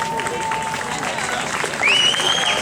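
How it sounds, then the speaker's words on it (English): Outdoor applause from a crowd at a topping-out ceremony for a science building's final beam, steady clapping with background chatter, swelling louder toward the end alongside a high whistle-like tone. "Everybody applauds."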